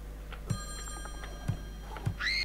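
A telephone rings in the video game Friday the 13th: Killer Puzzle, giving short bell-like trills at roughly one-second intervals over a low steady hum.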